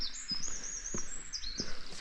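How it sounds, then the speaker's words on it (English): High thin bird chirps and tweets repeat over a quiet countryside background on Inis Mór, with a few soft low bumps like footsteps nearby. "You can hear the birds chirping."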